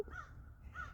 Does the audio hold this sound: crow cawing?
yes